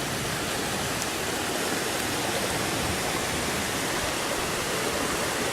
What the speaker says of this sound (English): It's the worst rainstorm I've ever seen.